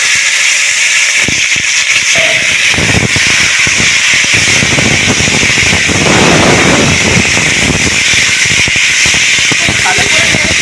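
Cut potatoes and bay leaves fry in hot oil for a fish curry with kohlrabi, a loud, steady hiss and crackle running the whole time, swelling briefly midway.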